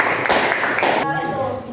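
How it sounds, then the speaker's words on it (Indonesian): Short burst of applause from a classroom audience for a presenting group, a few quick rounds of clapping that cut off abruptly, with voices mixed in. "Kita kasih tepuk tangan untuk kelompok."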